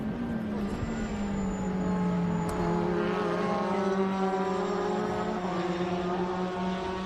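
A Revolution 500 race car at Road America drones past with a rising, harmonic engine note and a thin, high supercharger whine above it, steady and fairly close, with a commentator's voice partly under it.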